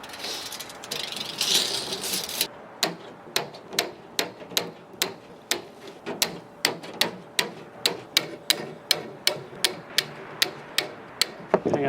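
Wire snipped with cutters while trimming ends on a homemade wire basket, a rapid series of sharp metallic clicks at an even pace, close and crisp, with no talking.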